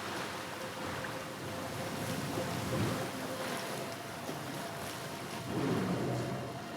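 Water in a flooded area in the video game Monster Hunter Stories 3, a soft continuous wash of moving water and wave-like swells that stays faint and steady throughout, with no talk over it.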